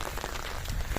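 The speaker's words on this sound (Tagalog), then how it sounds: "medyo umuulan pa rin" Light rain at a dam, a dense patter of drops hitting nearby surfaces, soft and steady for a brief moment with no voices.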